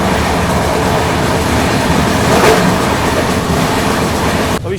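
Katihar Howrah Express passing at a railway crossing, a steady loud rumble and rattle of rail cars rolling by close, swelling slightly near the middle before cutting off abruptly.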